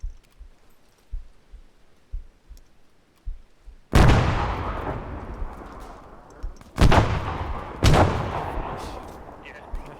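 Frag grenades and gunfire in the military shooter Arma 3: faint pops, then three loud, heavy blasts with long rumbling tails close by.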